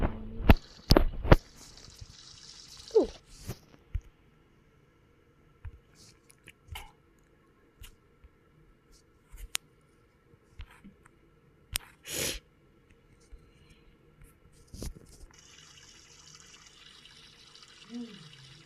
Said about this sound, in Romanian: Dau drumul la apă.